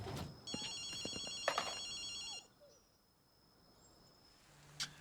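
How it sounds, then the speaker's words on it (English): A telephone rings in the video game Ghostwire: Tokyo with a repeating electronic trill that stops after about two seconds. Brief chirps and small effects follow, and a faint tone rises again at the very end. "電話の音が聞こえないか。"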